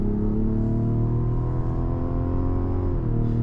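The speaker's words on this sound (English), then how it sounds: "the sound of this engine is amazing. Like, I love how this car sounds when you're just pushing it." Inline-six engine of a 2025 Mazda CX-90 pulling under acceleration, a steady low rumbling drone with layered engine harmonics that holds constant and loud throughout, no talking.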